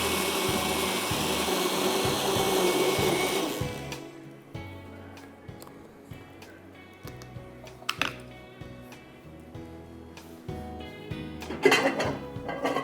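A blender whirs loudly for about four seconds while mixing pineapple juice, canned pineapple and white soda, then cuts off, followed by scattered clinks and knocks of kitchenware.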